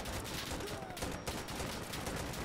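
Rapid gunfire from a weapon in the shooter game Insurgency: Sandstorm, a dense continuous burst of shots that fills the whole moment, loud and close with faint talk underneath.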